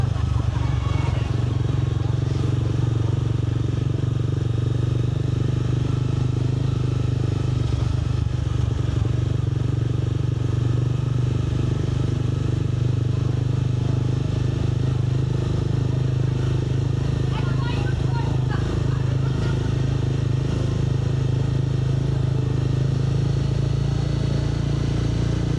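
A motorcycle rides at night with a steady, loud engine drone and constant wind rumble throughout. A rider's voice is faintly mixed in at times.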